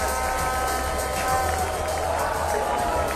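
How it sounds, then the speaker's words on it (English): A cricket crowd at Queens Sports Club cheers and claps through a T20 match between Pakistan and Zimbabwe, a steady, busy roar of voices and applause beneath a commentator's talking. "Fantastic crowd in here in Queen's Sports Club."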